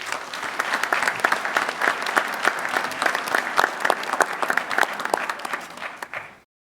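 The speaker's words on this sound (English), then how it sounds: "Could we have a round of applause for all these people up front?" A room full of people at a town meeting in Carver breaks into sustained, dense applause, the clapping close and lively for several seconds before cutting off abruptly.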